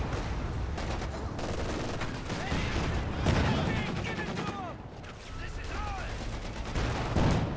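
Dense, distant battlefield gunfire from .50 cal machine guns in the video game Company of Heroes 2, continuous rattling with explosions and mechanical clatter mixed in, under someone talking.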